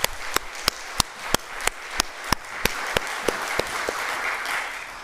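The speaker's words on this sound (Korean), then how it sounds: "우리를 위해 죽으시고 다시 살아나신 우리 구주 예수 그리스도께 힘찬 영광의 박수를 올려드립시다" During a Presbyterian church service, a congregation claps in unison to a steady beat, sharp rhythmic strikes roughly every third of a second over a rising bed of scattered applause.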